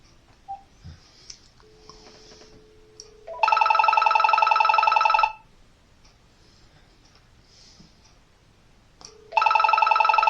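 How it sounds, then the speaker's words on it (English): A VTech cordless answering phone rings in two electronic trilling bursts several seconds apart, steady and fairly loud, with quiet room noise between. "So we're going to go ahead and ring it up"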